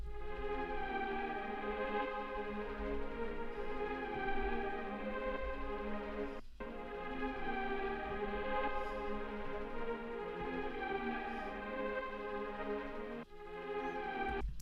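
Repeating synth loop from a Serum instance in FL Studio for a pluggnb-style beat: sustained, washy chorded tones with echo and chorus. The phrase cycles steadily with brief dropouts and a low bass underneath.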